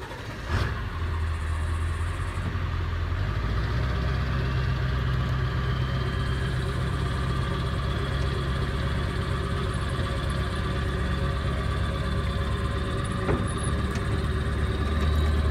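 A vehicle idles and rumbles steadily close by while towing a 4x8 trailer around a yard, its engine note shifting slightly as it moves, with no talking.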